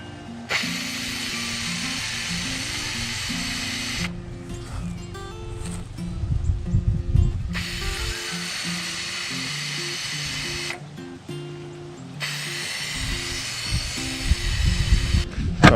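Bursts of aerosol spray paint hiss onto car tail lights, several separate passes a few seconds long with pauses between, close by, with gusty wind noise and faint outdoor rumble.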